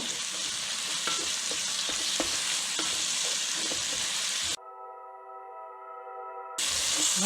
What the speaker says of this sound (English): let's go ahead and add the pork. We want to get the pork brown